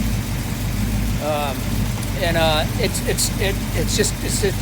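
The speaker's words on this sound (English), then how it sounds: "Now it idles great." A 1970 Ford Mustang Grande engine idles with a steady, loud low rumble, while someone talks briefly over it.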